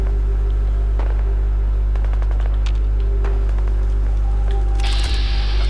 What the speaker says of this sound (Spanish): Vale, estoy escuchando disparos.